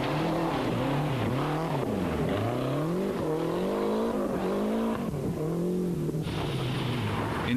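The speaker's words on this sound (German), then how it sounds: "gibt der Grieche Chica am zweiten Tag der Rallye deutlich mehr Gas" A rally car at the 1992 Eifel Rally in Germany accelerates hard along a stage, its engine loud and close as the revs rise and fall repeatedly through quick gear changes.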